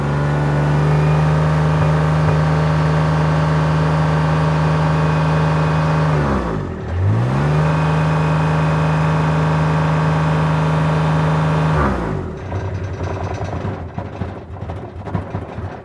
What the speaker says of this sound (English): Let me give it gas, see if it dies out.